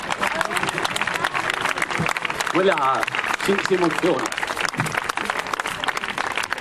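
Crowd applause for a rider and his horse at a historical jousting reenactment in Cormons, steady dense clapping throughout with a voice speaking briefly over it midway.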